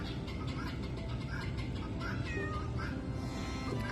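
A farm cat meows repeatedly outdoors, several short rising calls close by over steady barnyard background noise, with no talking.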